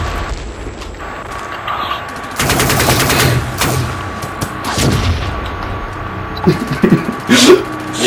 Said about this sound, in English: No, he's shooting at me.